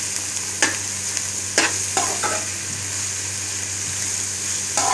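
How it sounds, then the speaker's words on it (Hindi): Cabbage fries in a pan over low heat, a soft steady sizzle broken by several sharp scraping clinks as a spoon stirs it. "इसको अच्छी तरीके से मिक्स करेंगे और साथ साथ चमचे को हिलाते रहेंगे"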